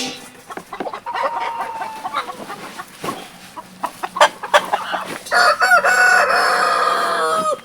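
Chickens in and around a backyard coop cluck in a busy, overlapping stream, and a rooster crows loudly near the end. The birds are close and clear, with no talk over them.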